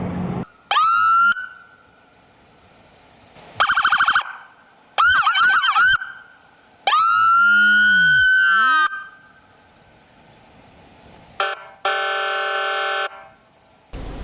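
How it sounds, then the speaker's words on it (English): Windsor police vehicle sirens sound in short separate bursts: rising wails, quick yelps, a sweeping tone, and a harsh horn blast, each loud and close with silent gaps between them. "So here are some of the sounds of the Windsor police vehicles."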